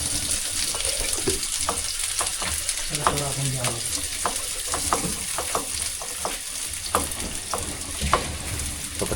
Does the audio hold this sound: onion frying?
yes